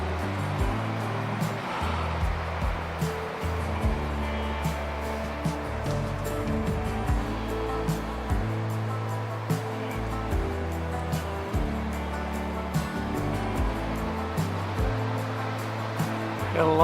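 Surf is heard at Blanco Beach in Cape Blanco State Park on the Oregon coast, a driftwood-strewn shore. A steady, loud roar of waves rolls on without a break, with no voices.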